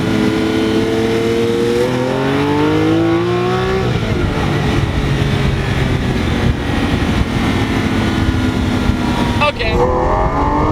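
A Lamborghini Aventador V12 with its exhaust valves open in Sport and Corsa modes revs up, falls back, and surges again near the end, loud and close.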